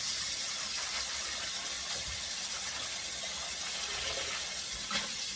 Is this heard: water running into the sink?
yes